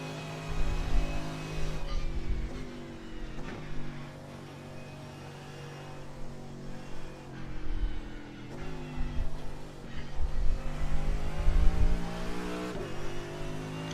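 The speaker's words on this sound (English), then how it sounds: "the Mercedes AMG kind of just sounds like an old motorbike" Mercedes AMG race car engine in the iRacing sim at the Suzuka 12 Hours, a mechanical, motorbike-like drone rising and falling through revs with repeated gear changes, steady and close throughout.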